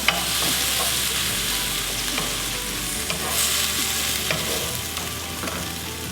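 Chopped tomato chunks cooking down in a pan for a Cambodian tomato sauce, giving a steady close sizzle with occasional stirring scrapes and taps throughout.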